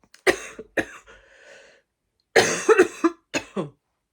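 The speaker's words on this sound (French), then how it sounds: "j'ai terriblement envie de tousser." A woman coughs in two clusters, a pair of sharp coughs, a pause, then a rapid run of several more, close and loud.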